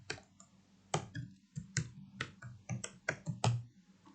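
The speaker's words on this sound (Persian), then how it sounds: "یه پسورد بزنیم که مجبور نشیم اون هی تایپ کنیم" Password being typed on a computer keyboard during router configuration, a run of about a dozen crisp, uneven key clicks close to the microphone, with no talking.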